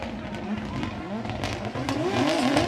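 A Nissan Z drift car at a Formula Drift event in Japan roars close by at high revs, its engine note rising and falling as the tires spin and squeal, a continuous loud mechanical din.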